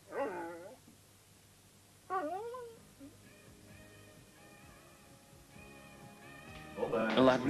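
A dog gives two short, rising-and-falling whimpering whines, close and fairly clear, followed by softer mixed background sounds and a louder burst of noise at the end.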